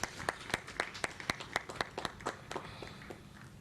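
Applause from a graduation ceremony audience at Kyambogo University, rendered as distinct, fairly even hand claps in a steady rhythm that thin out toward the end, with no talk over them.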